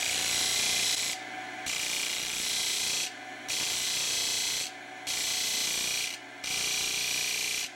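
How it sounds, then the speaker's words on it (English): Grinding the tip of the firing pin from a third-scale model Gatling gun, a loud harsh abrasive rasp running in four long passes separated by brief dips. "the tip of the firing pin is being slightly ground down."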